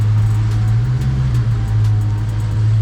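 Totaled Dodge Charger Hellcat Redeye with bent tie rods and crooked wheels idling as it backs up, a steady deep supercharged V8 rumble close by and fairly loud throughout, with no talk over it.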